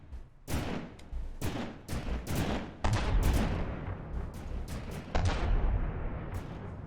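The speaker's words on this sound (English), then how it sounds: "Both the front guns are having a go, which is good." Rapid gunfire from the front guns of a vehicle in the Quest for Neter video game, volleys of sharp cracking shots in irregular bursts, loud and close, with rumbling echoes between them.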